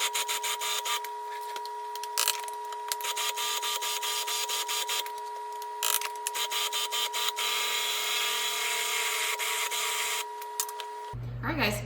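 Food processor pulsing chickpeas, vegetables and flour, a whirring motor in short repeated bursts with a steady tonal hum, near and fairly loud, ending with an abrupt low thump.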